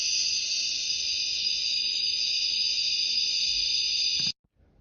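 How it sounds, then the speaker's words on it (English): Natural gas escaping from a cracked pipe gives a steady, loud, high-pitched hiss that holds unbroken for about four seconds, then cuts off abruptly into near silence. "Listen for a hissing or whistling sound caused by gas escaping"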